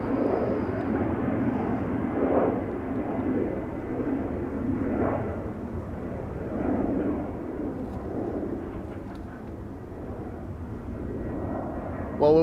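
A German Airways airliner taking off from Schiphol's Polderbaan, a loud continuous jet engine roar that swells and fades in broad waves, with speech faintly mixed in.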